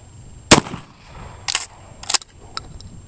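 A Winchester 1897 12-gauge pump shotgun fires one sharp, loud blast, followed by several quieter metallic clacks spaced about half a second apart, with no talking.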